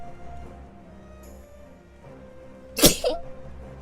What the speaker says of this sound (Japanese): 出たー。 あ、 くしゃみ出る。